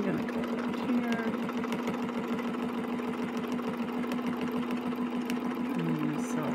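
A sewing machine stitches steadily through fabric, a continuous close mechanical whir with a fast regular chatter throughout, running alone at an even level.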